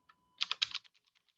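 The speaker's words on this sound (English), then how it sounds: "All you have to do is just click inside and start typing" Fingers type on a computer keyboard, a quick burst of about half a dozen crisp clicks followed by a few fainter taps, close and isolated in a quiet room.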